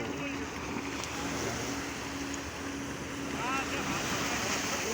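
Big waves from a passing ship's wake slap and wash around a small trawler at sea, with a rushing surf roar, wind noise and an excited voice over it.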